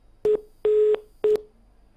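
A telephone line gives its disconnect signal: three loud, evenly pitched electronic beeps, the middle one longer, separated by short silences.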